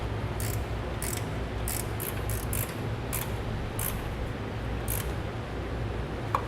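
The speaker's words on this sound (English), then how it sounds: "Now we'll move on to tightening down our carriage bolts. This we're going to use a 7/16 for." A 7/16 socket tightens carriage bolts on running-board brackets, giving a series of short clicking ratchet bursts at an uneven pace over a steady low hum.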